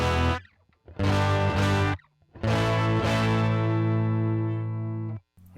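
An electric guitar played through a rare Canadian distortion pedal rings out in three loud, sustained, fuzz-rich chords separated by brief silences, the last one held longest and decaying slowly.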